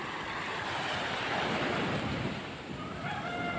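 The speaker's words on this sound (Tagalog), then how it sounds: "dagkot balod, malaki yung alon" Big ocean waves roll onto the shore at Boronggan, a continuous loud roar of surf that swells and recedes, mixed with wind rumble on the microphone.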